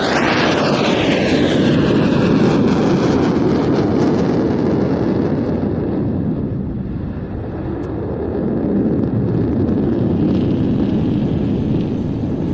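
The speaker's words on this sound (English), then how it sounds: "A multi-role fighter primarily intended for air-to-air and air-to-surface combat," A Swedish multi-role fighter jet roars past at an airshow, a loud sustained engine rumble with a falling whine that dips briefly, then swells again.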